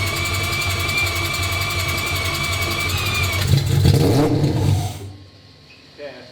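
A Mazda RX-7 with a four-rotor engine cranks briefly and fires up into a loud, close rev that quickly drops off to quiet, with voices talking over the engine noise.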